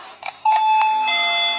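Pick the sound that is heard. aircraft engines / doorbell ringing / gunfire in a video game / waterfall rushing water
doorbell ringing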